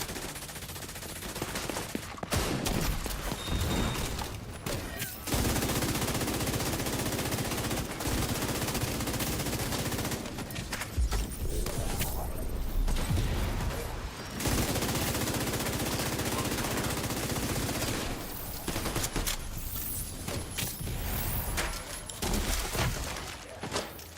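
Sustained submachine gun fire in a Tom Clancy's The Division 2 style shooter, long rattling automatic bursts broken by brief pauses, loud and dense across the whole stretch.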